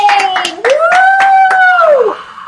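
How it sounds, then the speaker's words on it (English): A handful of people clap in a small room for Jeremy Blaine, sharp close hand claps scattered under a loud, drawn-out whooping cheer from one voice. "Okay, round of applause for Jeremy Blaine."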